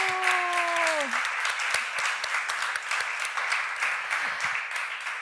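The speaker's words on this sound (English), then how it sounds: "We are going to say thank you collectively, and we are going to clap your hands." Audience at a festival panel breaks into sustained applause, steady dense clapping filling the whole stretch at moderate loudness, with a few faint voices and brief tones early on.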